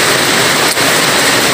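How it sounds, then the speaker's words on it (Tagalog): Typhoon Julian drives dense, heavy rain and gusting wind in a constant loud hiss across open rice fields, with a brief dip midway. "nararamdaman namin itong pabugso-bugsong hangin dito at matinding pagbuhos ng ulan"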